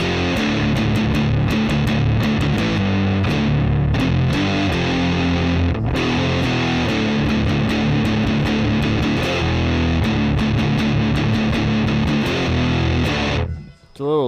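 An electric guitar through a Catalinbread fuzz distortion pedal plays loud, thick, heavily fuzzed chords and riffs without pause, then cuts off abruptly with a short noisy tail.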